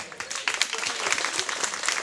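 An audience applauding guests from a paint company at a park-painting community event in Romania, steady broad clapping lasting about two seconds at moderate loudness.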